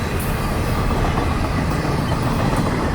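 A short FEC Railway train rolls past close by, a steady loud rumble of wheels on rails with faint clatter throughout.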